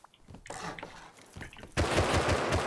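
Bursts of gunfire in an online shooter video game, scattered shots at first, then a loud sustained rapid volley in the final second, with players talking quietly under it.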